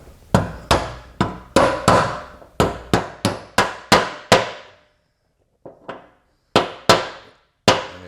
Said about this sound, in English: Got it sanded up real good, so that thing should tap in there pretty easy.